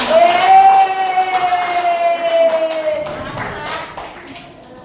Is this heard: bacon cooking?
no